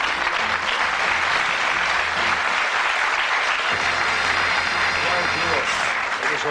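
Studio audience applauding steadily at a 1980s Bullseye game show taping, a dense, loud wash of clapping that holds for several seconds with some voices mixed in underneath.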